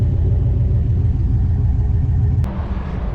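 A Mopar car cruising down the road, its steady low engine rumble loud and continuous, with a brief click and a slight drop in level near the end.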